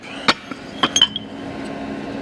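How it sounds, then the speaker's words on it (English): Metal bolt dropped during supercharger work on a 1955 car, a few bright clinks and a short bounce within the first second, then quiet workshop hum. "I did drop this bolt"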